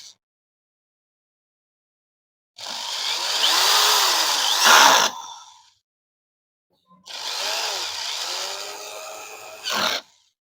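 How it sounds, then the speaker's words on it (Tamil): A power screwdriver drives three screws fully tight into the holes of a vertical stand for a band sealer machine, in two loud whirring bursts of about two and three seconds, each ending in a sharper strained spike, with silence between. "இந்த 3 ஹோல்ஸ்லயும் 3 ஸ்க்ரூ போட்டுங்க ஃபர்ஸ்ட். ஃபுல் டைட் பண்றங்க இதெல்லாம்."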